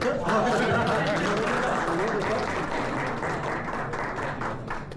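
Applause from an audience at a Serbian automobile forum awards ceremony, steady dense clapping throughout with voices mixed in and speech over the top.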